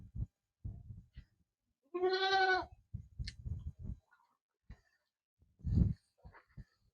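Goats bleating on a livestock farm: one loud, close, drawn-out wavering bleat stands out in the middle, with shorter animal calls and farm noises coming before and after it.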